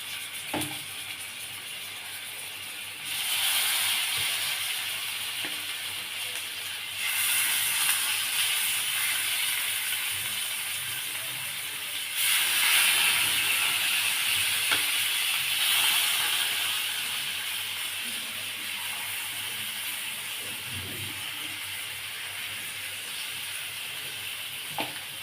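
A pot of chicken with a little butter comes to the boil, giving a continuous steamy hiss that swells and eases in waves over about twenty-five seconds, steady and close with no speech.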